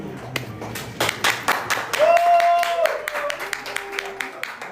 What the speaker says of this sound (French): Ça applaudit.